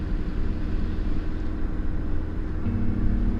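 A vehicle engine held at full throttle while climbing a mountain road at about 10,000 feet elevation, a steady low droning rumble that stays constant and even, with no voices over it.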